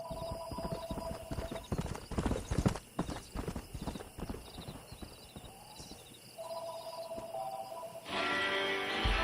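Horse hooves clip-clopping at a walk in the Red Dead Redemption video game, a close, uneven series of clops with a whinny partway through, later giving way to a steady hiss.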